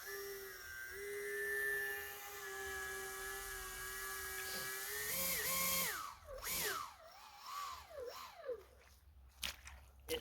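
A small 3D printed RC boat's motor whines steadily at high pitch as it runs on water, then wavers and surges in bursts as the boat dives hard at the bow with the battery mounted up front.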